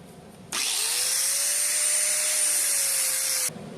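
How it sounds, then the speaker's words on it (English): A sanding grinder spins up and grinds metal before welding on a flatbed installation, a loud, steady high-pitched whine for about three seconds that stops abruptly, with no talking. "I'm just going to grind here and here with the sand grinder real quick"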